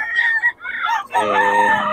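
A rooster crows nearby, a loud, strained cock-a-doodle-doo in several rising and falling segments, ending on a long drawn-out note.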